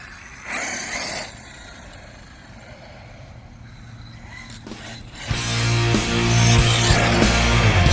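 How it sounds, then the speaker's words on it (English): An RC Dunerunner's electric motor cogging at light throttle, a brief whine and rough buzzing that rises into a louder, sustained drive sound near the end. "it does have a small amount of cogging on this, but I'm just barely hitting the throttle"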